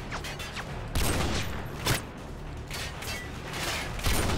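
Enemy shotgun fire in Call of Duty MW2, several sharp booming blasts spaced irregularly over a constant mechanical din of battle, moderately loud, without speech.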